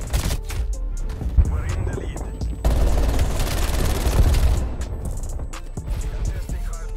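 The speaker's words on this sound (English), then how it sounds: "I died to another nade." A grenade blast in the shooter game Black Ops Cold War bursts into a loud, crackling rumble midway, set among sharp gunfire bursts, with someone speaking over the combat.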